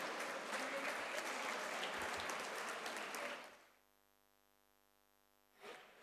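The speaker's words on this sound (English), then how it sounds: "Huge round of applause to our MIT WPU's football team." Dense, loud applause from the crowd at the MIT-WPU Sports Summit 2021 valedictory ceremony for the university football team, lasting about three seconds before cutting out to near silence, then a short burst of noise at the end.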